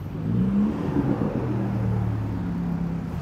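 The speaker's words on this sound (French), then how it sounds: "La petite Ferrari Roma." A Ferrari Roma sports car rumbles nearby on a Monaco street, its engine note steady and low with a slight rise, heard alone without talk.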